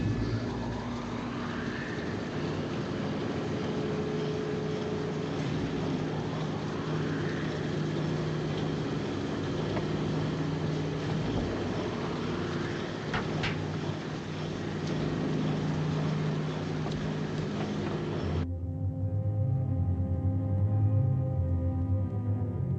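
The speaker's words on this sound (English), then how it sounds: "Start engines." Submarine engines start up aboard the Nautilus in the 1954 film: a deep, steady mechanical drone with rising whines, a sharp clank partway, then a lower rumbling throb, alone and loud.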